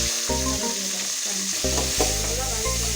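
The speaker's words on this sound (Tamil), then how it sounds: "நல்லா வதக்கணும் வெங்காயம்." Onions sautéing in a pan after cumin seeds for a cauliflower fish kulambu, a steady close sizzle broken by stirring scrapes and clatters, with no voices.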